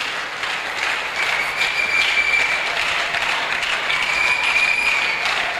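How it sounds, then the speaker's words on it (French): An audience at a church gathering claps in steady, dense applause that keeps at an even level throughout. "We applause for Neville."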